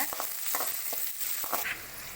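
Chopped onion and dried chillies frying in a pan: a soft, fairly quiet sizzle with several quick scraping strokes as the mixture is stirred.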